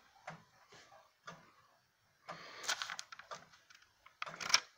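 A 1790 Gideon Roberts wooden-movement tall case grandfather clock ticks softly at a steady, roughly one-per-second beat, followed by louder clattering handling noise near the case toward the end.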